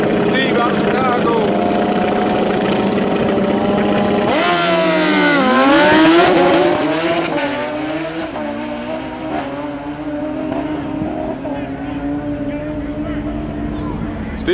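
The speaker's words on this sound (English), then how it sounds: "We got a grudge race. Two motorcycles." Two drag motorcycles roar loudly in a grudge race at a drag strip, engines screaming and rising in pitch as they launch and pass, then fading into a steady distant drone.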